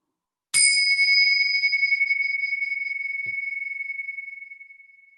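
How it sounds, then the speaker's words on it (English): A meditation bell struck once, its clear bright tone ringing out and slowly fading over several seconds into near silence, heard alone and close. "Just bring your full attention to the sound of the bell until it dissolves into silence."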